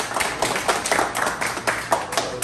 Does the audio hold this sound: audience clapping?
yes